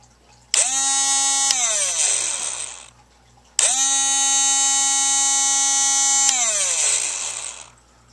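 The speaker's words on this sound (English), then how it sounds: "There's my Dremel" A homemade 12-volt rotary tool powered by a booster pack spins up twice, each time with a high whine that holds steady and then winds down. The two runs are close and loud, with no talking.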